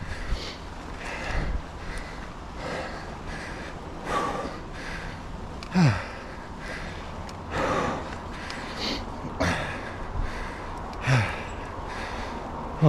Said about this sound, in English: there's gonna be a lot of breathing in this video.